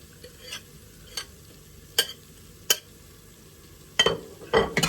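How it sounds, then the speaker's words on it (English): Garlic and ginger frying with softened onions in a pan, stirred in a few separate scrapes over a low steady sizzle, with a louder burst of stirring near the end. "Mix that in to our onion mixture, and again let that cook for a few more minutes."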